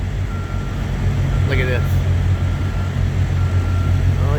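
A truck reverses through a New York street at the Hunts Point Market in the Bronx, its backup alarm beeping steadily over loud engine rumble, while a nearby voice speaks briefly.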